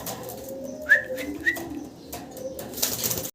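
Pigeons coo and call in a quiet indoor space, with two short bright chirps close together followed by softer rustling and faint wing movement.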